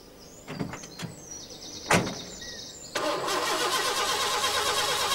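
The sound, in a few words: van engine starting and warming up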